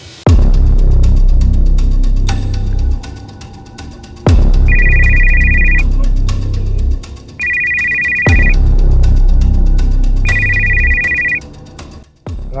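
A ringtone plays loudly in repeating cycles, a tonal melody over a low pulsing beat, with bright beeping bursts recurring about every three seconds.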